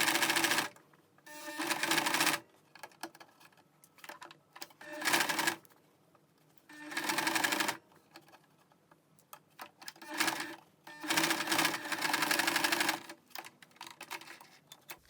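A sewing machine stitches down a dress shirt sleeve in several rapid, buzzing runs of a second or two each, separated by quiet gaps, close and clear.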